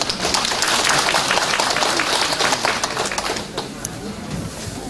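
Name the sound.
audience applause welcoming a speaker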